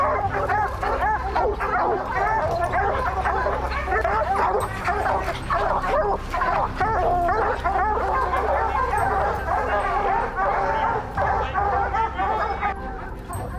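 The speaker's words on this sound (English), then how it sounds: "hunters are allowed to use 5 to 7 hunting dogs to help them search for and" A pack of hunting dogs on a bear hunt bark, yip and whimper loudly and continuously, several dogs overlapping in an excited, nearly unbroken chorus close by.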